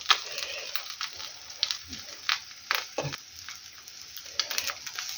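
Soft sizzling and light crackling of pancake batter frying in a pan, with occasional scraping and small clinks nearby, fairly quiet and steady.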